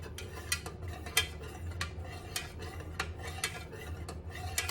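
A utensil stirring melted candle wax inside a container, producing repeated light clinks and scrapes against the sides in an uneven steady rhythm, close and moderately quiet with no talking.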